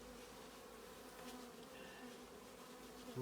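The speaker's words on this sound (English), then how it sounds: "She's buzzing her wings a bit, which I'm sure is a communication thing" A honey bee buzzes her wings in a short, faint, steady drone heard close up, with a soft background hiss and no talking.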